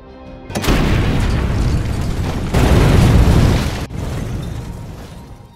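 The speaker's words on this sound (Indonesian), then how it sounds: "Kyle langsung membawa Manny keluar tepat sebelum bom di pintu supermarket itu meledak" A bomb blows up at a supermarket door in an action film, a sudden heavy boom followed by a long roaring blast and rumble, with a second surge of noise partway through.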